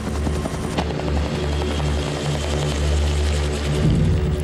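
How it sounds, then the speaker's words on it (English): Military helicopters pass low overhead during a manhunt exercise in dense bush, a loud throbbing rotor drone with a steady low pulse that swells slightly toward the end. "As the choppers pass overhead,"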